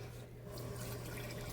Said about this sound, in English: Now to that we have to put in 2 1/4 cups of warm water.